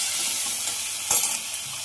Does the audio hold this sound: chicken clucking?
no